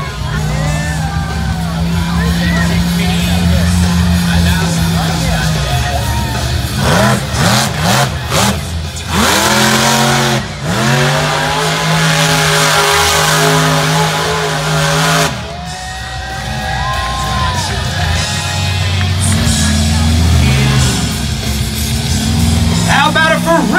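A monster truck engine roars and revs hard while the truck spins donuts at an outdoor competition in London, Ohio, loud and continuous with repeated throttle surges, a crowd and an announcer's voice underneath.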